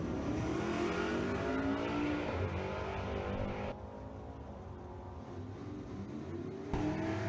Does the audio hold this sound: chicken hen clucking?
no